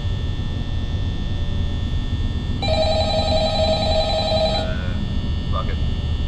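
A telephone rings in the Five Nights at Freddy's video game, a single electronic trill lasting about two seconds, loud and clear over a steady fan-like hum, followed by a couple of faint clicks.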